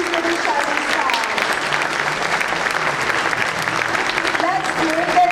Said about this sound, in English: A little more applause for these little shining stars.